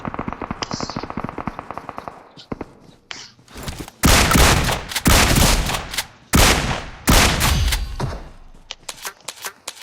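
Gunfire in the mobile battle royale game BGMI: rapid automatic bursts and sharp loud shots come in clusters, close and punchy, after a quieter stretch of rattling fire.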